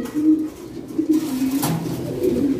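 Fancy pigeons in a loft give low, steady cooing that rolls on through the moment, fairly close and alone with no voices.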